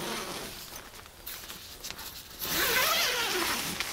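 The zipper on a bicycle caravan trailer being opened in snowy weather, with several short raspy zip pulls followed by a longer, louder continuous zip close to the microphone, and no talk.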